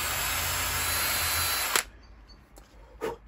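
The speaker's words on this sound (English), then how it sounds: "drill a pilot hole." Power drill boring a pilot hole for brass screws on a powder flask, a steady loud whine for nearly two seconds that cuts off abruptly, followed by a few faint handling clicks.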